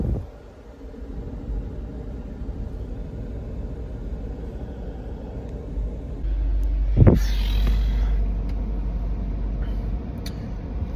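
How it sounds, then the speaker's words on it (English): A car stuck in heavy traffic on Hessa Street in Dubai, with a steady low engine rumble from inside the cabin. Midway there is a brief louder whoosh, and the drone deepens slightly afterward. "So I'm currently stuck in the worst traffic ever on Hessa Street obviously in Dubai."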